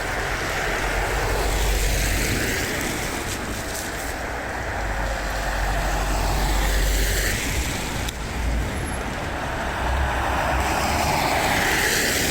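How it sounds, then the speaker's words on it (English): A heavy truck passes on a road near Glasgow, its broad, roaring drone swelling and fading across the span, loud and steady with no voices. "Heavy truck."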